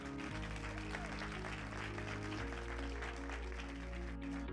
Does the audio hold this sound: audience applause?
yes